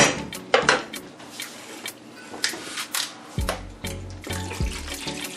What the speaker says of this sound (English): So now we're going to start adding milk.